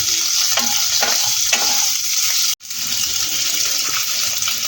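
Soybean chunks fry and sizzle steadily in hot oil for biryani while being stirred in a few scraping strokes, with a brief hard cut partway through and no talking.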